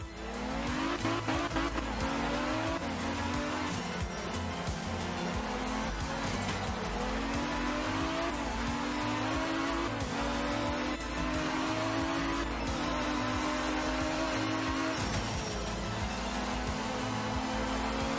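Racing video game car modeled on a Toyota Celica GT, its engine revving up and shifting through gears with repeated rising whines and squealing tires, loud and continuous throughout.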